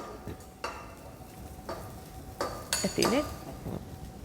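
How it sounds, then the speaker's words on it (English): Sliced cabbage tipped into a hot pan for a Sri Lankan saute with chili: metal spoon scrapes and clanks against the pan over a light sizzle, several distinct knocks close by, with no talk. "So now he's going to put the sliced cabbage in."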